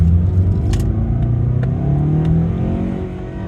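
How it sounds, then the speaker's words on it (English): A Mazda 6 with a turbocharged engine accelerates hard on a residential street, a loud, close, steady engine drone rising in pitch across the run, heard from inside the car with no talk. "that was just a quick little acceleration run to show you how it accelerates"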